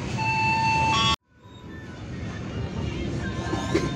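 The KA Rajabasa passenger train pulls into Tulung Buyut station in Indonesia and stops; a steady rolling rumble with an onboard announcement tone, a sudden cut, then the low hum and rattle of the carriage returning, heard from inside.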